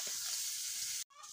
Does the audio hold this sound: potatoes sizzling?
yes